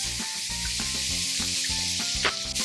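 Bacon sizzles and crackles steadily in a hot pan, a constant bright frying hiss with small pops throughout, close and alone without talk.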